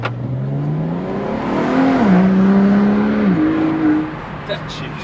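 A Volvo car pulls away fast, its engine note climbing and holding through the gears, loud and close, while people talk over it.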